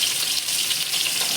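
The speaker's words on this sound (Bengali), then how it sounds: "এখন সুন্দর করে লাল লাল করে ভেজে নেব হাই ফ্লেমে মাছটা ভেজে নেব" Fish pieces fry in hot oil over a high flame, a dense, loud, even sizzle close by that holds steady without a break or any talking.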